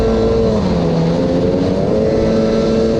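A 1995–96 Sea-Doo XP jet ski engine revs on the throttle, a loud, close, continuous motor drone with its pitch rising and falling slightly across the whole stretch.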